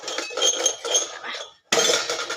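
Metal utensils for a deity's worship at a home Vishwakarma Puja clink and clatter as they are handled, giving several quick bursts of rattling, a short pause, then more clinking close by.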